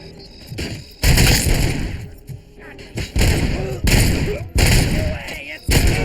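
Gunfire rings out in the RoboCop Rogue City video game: loud, heavy bursts repeat about every second, with booming impacts and game sounds filling the short gaps between them.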